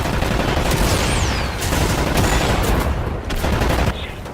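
Rapid bursts of gunfire from the Wolfenstein video game, loud and close, with shots crackling in quick succession and brief lulls between volleys.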